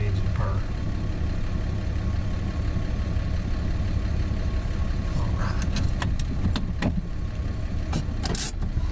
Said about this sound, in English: Man, looks like that engine purr.